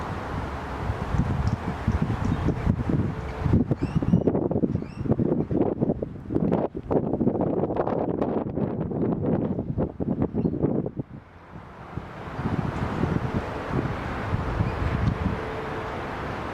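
Strong wind gusts buffet the microphone in an Anglican churchyard cemetery, roaring steadily with rustling, easing briefly before rising again; no talking is heard.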